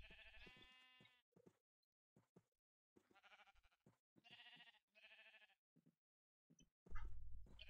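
Sheep bleat repeatedly in Minecraft, short nasal cries in uneven bursts separated by silent gaps, fairly close, with a louder low thump near the end.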